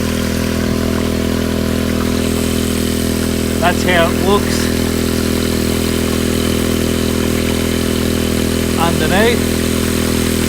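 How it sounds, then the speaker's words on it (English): A Honda WX15 water pump engine runs steadily and loudly throughout, a constant droning hum under a voice that speaks briefly twice. "So I'm gonna kick the pump in the guts. Got the Honda WX15,"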